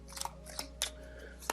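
Tarot cards drawn one by one from a deck, a few faint, brief papery snaps and rustles close by in a quiet room.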